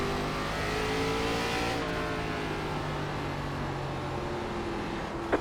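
A big pack of lapped ARCA Menards Series race cars in iRacing at Langley drones past with layered, sustained engine tones rising and shifting, loud and steady throughout.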